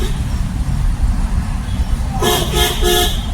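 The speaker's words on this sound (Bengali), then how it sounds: "হন দাও" A car horn sounds from a vehicle driven by a learner: several short, loud honks in quick succession, close, over a steady engine and road rumble.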